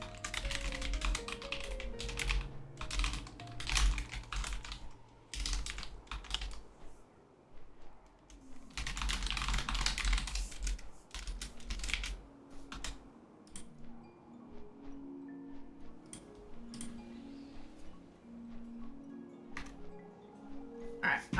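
Rapid clacking on a computer keyboard runs in bursts through a World of Warcraft stream, with dense flurries of keystrokes, brief pauses, and faint game sounds underneath.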